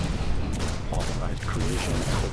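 A turret fires in the superhero video game DC Universe Online, shooting through walls; rapid repeated booming bursts of gunfire run throughout, dense and loud, with a voice talking over the shots.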